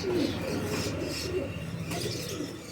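A pair of quails, male and female, calling with short repeated low coos and warbling notes, close by, over a steady low hum.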